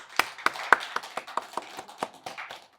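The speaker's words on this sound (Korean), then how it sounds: "우리가 감사하고 기쁜 마음으로 하나님께 영광의 박수를 드리겠습니다." A church congregation claps during an early-morning special prayer service, a sparse, distinct run of individual claps at a moderate distance, fairly quiet and without voices.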